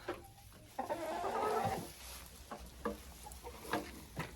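Laying hens in a henhouse clucking softly and murmuring, with a brief louder burst of cackling near the start, then scattered quiet clucks and rustling close by, no talk.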